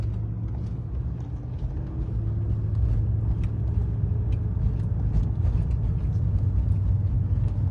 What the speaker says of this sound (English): This car is turning right when I get across the street as another car drives behind him at the top of the hill.